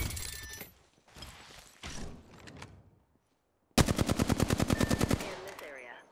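Video game gunfire erupts as a rapid, loud automatic burst of evenly spaced shots lasting over a second. It follows stretches of muffled game noise and talk.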